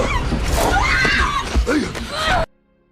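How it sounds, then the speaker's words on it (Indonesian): A girl screams in a war film scene, a loud, wavering shriek lasting over two seconds before cutting off abruptly into silence. "Mendengar jeritan Missy,"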